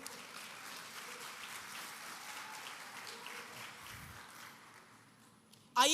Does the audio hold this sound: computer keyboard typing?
no